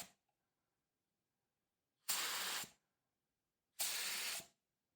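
Two short bursts of hissing spray from an LVLP or HVLP paint spray gun, each about half a second long, separated by quiet pauses.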